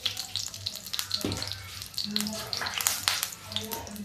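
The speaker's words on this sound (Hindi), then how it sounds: "ये देखिए पहले जीरा डालते हैं और जीरा के साथ ही हींग डाल देते हैं।" Cumin seeds and asafoetida sizzling in hot oil in a home kitchen, a steady crackling fry with sharp pops and a brief scrape partway through, close and moderately loud.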